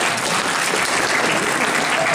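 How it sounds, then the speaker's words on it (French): Loud, continuous applause from a crowd at a retrogaming talk at a convention, a dense wash of clapping without pause throughout. "on peut l'applaudir"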